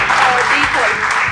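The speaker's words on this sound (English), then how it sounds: "Give them a round of applause" Audience at a medical college quiz final in Delhi applauding a leading team, a loud, continuous wash of clapping that fills the short moment, with some talk mixed in.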